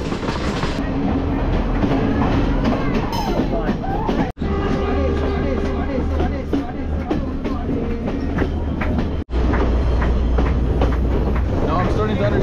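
A third-class train running from Kandy, Sri Lanka, gives a loud, steady rumble with rhythmic clickety-clack from the rails and rattling carriages, while a person talks over the noise throughout.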